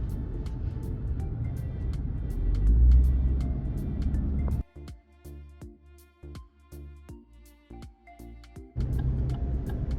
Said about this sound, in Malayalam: നമ്മുടെ ഇവിടെ ഓസ്ട്രേലിയയിൽ ഈ ആടുകളെയൊക്കെ കൊണ്ടുപോകാനായിട്ട് ഉപയോഗിക്കുന്ന ഒരു ട്രക്കാണ്.